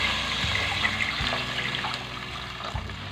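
One litre of water is poured into a pot of chicken for chicken yakhni, a steady close splashing gush with a few low thuds, heard alone.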